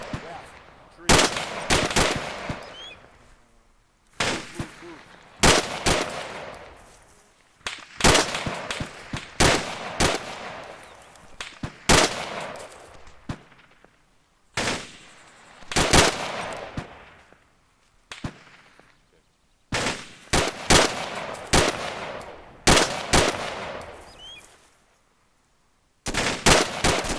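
Bursts of rifle and automatic gunfire from a squad of several weapons, loud rapid cracks in irregular clusters with short pauses between volleys and a brief silence near the end; faint voices come through between shots.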